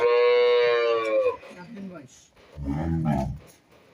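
Holstein Friesian dairy cows moo loudly and close by, a long harmonic call followed by a shorter, lower moo, with a person speaking briefly between the two calls.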